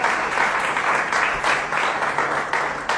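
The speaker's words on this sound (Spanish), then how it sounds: "También denles un aplauso fuerte, es su casa." A church congregation breaks into loud, sustained applause, a dense and steady wash of many hands clapping together, with no voices standing out.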